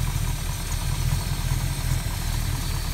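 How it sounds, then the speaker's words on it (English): Engine of a 1966 Plymouth Valiant convertible with a 273 V8 idling, a low, steady rumbling exhaust, even and close, no voices over it. "That thing purrs, man. Look at that. Got a nice little exhaust note to it."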